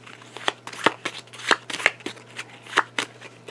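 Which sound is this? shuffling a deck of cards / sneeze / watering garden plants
shuffling a deck of cards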